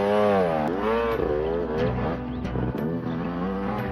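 A car engine revs hard as the driver floors the gas, a loud, continuous, close-up roar whose pitch swells and wavers for several seconds, with a few sharp clicks and bumps over it.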